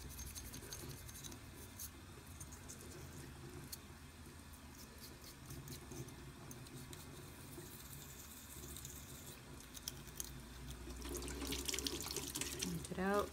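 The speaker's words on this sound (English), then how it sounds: "You want to just run some water through down this and make sure it comes out clear." Tap water runs steadily through an airbrush gun held under a sink faucet, a continuous close splashing rush with faint scrubbing scratches, growing louder near the end.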